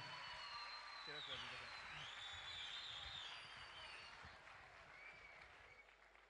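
Dense crowd applause fills a ceremony hall for Turkey's Interior Minister at an Imam Hatip schools' Islamic sciences olympiad award event, steady then slowly fading, with a voice and a microphone tone sounding over it.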